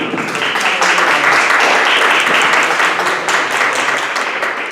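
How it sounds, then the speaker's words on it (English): A crowd at a neighborhood association meeting with city police gives a round of applause. The clapping is dense and continuous, stays fairly loud throughout and tapers slightly at the end, with no talking over it. "We're going to give them a round of applause"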